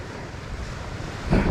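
Sea waves wash steadily against a black-sand beach on the Gulf of Mannar shore. The surf is a continuous broadband rush mixed with wind noise, and a slightly louder wash comes in near the end, with no voices.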